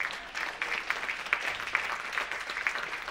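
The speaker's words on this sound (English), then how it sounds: "Give that a round of applause." An audience at a community service award event claps in steady applause from a crowd, filling the short stretch with continuous hand-clapping.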